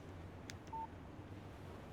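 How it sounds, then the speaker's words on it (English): A short electronic beep from a phone text message alert in the video game Alan Wake, a single brief tone after a couple of faint clicks, quiet over a low background hum. "Text message from Barry"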